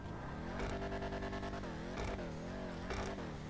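A car engine revs hard and close, its pitch rising and falling through several throttle blips with a strong, buzzy harmonic drone.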